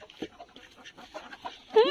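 A chicken clucks softly in short scattered bursts close by, with a louder call at the end and quiet household background.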